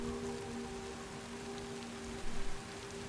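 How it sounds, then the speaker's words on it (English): Steady rain falls in the video game Death Stranding 2, a soft, even hiss throughout with a low tonal hum beneath and a brief louder patter near the end, no voices. "Raindrops are falling on my head."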